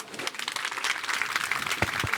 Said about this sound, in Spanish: lo recibimos con un gran aplauso